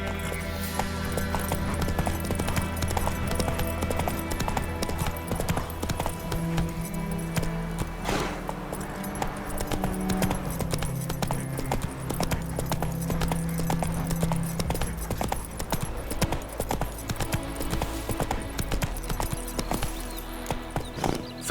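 Roach the horse gallops in The Witcher 3: Wild Hunt, a continuous drumming of hooves under dense game music and ambience.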